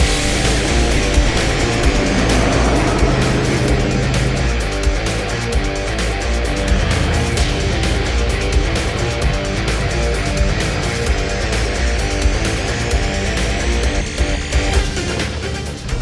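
A custom-built 6x6 Toyota Land Cruiser drives with a steady, loud engine and drivetrain rumble throughout, the sound of an unladen truck with stiff suspension moving over a bumpy surface, and no talking.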